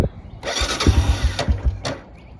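A 1994 Honda Fortrax 300 4x4 ATV engine cranks and catches, sputtering through a few quick uneven bursts before quieting, close and loud, with no talking.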